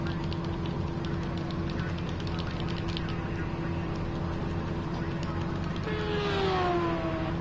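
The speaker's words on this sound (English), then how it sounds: "As other cars go by on the track," GT3 racing cars in a sim race at Algarve pass along the track, a steady engine drone with one car sweeping by louder near the end, all under continuous background noise.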